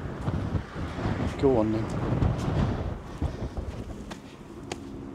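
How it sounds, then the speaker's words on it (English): Gusty wind outdoors at an abandoned chapel in Greece buffets the microphone with a low, rumbling roar that swells and fades under a man's brief spoken words. "It's got a bit windy the last couple of days."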